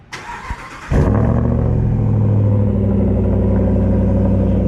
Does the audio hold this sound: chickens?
no